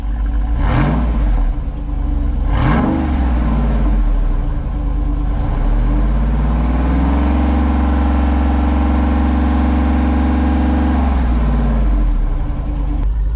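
Jeep Wrangler 392 V8 with AWE Tuning exhaust, valves open, revving loudly close up in two sharp blips, then holding a sustained deep rev before settling back to a heavy idle rumble.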